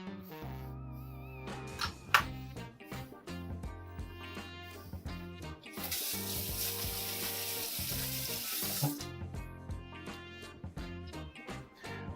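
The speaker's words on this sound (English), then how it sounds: "I'm going to try and saute that" A chili ingredient sautéing in a pan, crackling and popping with repeated spatula clatter, swelling into a louder dense sizzle midway before easing back, no voices.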